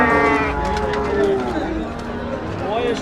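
Cattle low and moo loudly at a livestock market where a cow and calf are for sale, several drawn-out calls close by while people talk in the background.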